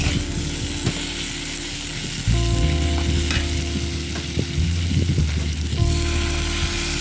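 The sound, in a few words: shrimp added to frying bitter gourd and potatoes, sizzling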